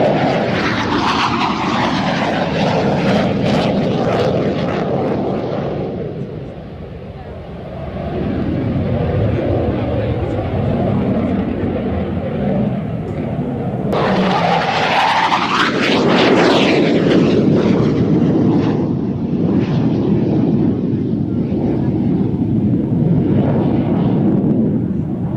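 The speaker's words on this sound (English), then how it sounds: "he'll be able to pull up into the vertical and we shall see the planform of the aircraft from underneath" Jet aircraft roaring past at an air display, likely a Hawker Hunter, with a loud sustained engine rumble that dips briefly, then surges again with a sweeping pitch change as it passes close.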